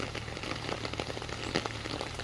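Heavy rain pours steadily across a garden in southern California, a dense, even wash of patter with no voices.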